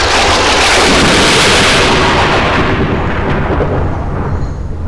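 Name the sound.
fireball explosion sound effect in radio play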